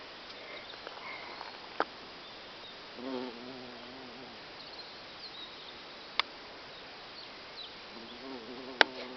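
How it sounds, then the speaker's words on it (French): Carpenter bee buzzing close by with a faint, wavering drone that comes and goes in short passes, over a quiet outdoor background with a few sharp clicks. "Encore notre amie l'abeille charpentière."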